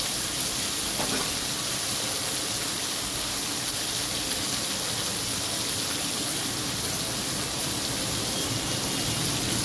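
Okra (bhindi) fries in a pan, making a steady, even sizzling hiss that runs unbroken and fairly quietly throughout.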